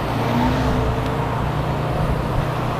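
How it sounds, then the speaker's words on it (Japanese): Cars pass along a road on Awaji Island during a bicycle trip, making a steady, continuous traffic rumble mixed with wind noise, with no distinct pauses. "こういうところ今は車の音ばっかりだな"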